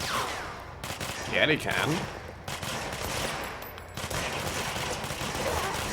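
Gunfire in the video game Control crackles in sustained rapid bursts and volleys across the whole stretch, mixed with other game effects, while a voice speaks briefly over the shooting.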